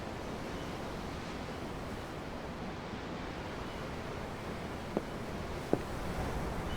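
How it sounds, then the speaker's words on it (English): Ocean waves in Tales of Arise, a soft continuous wash of surf and wind from a ship's deck, faint and even, with two small knocks near the end. "The ocean? Yeah. The waves."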